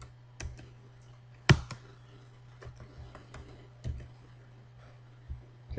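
Keys tapped on a computer keyboard while entering a name and password during a Linux install in a VM Workstation virtual machine, sparse irregular clicks with one louder stroke over a steady low hum, no talk.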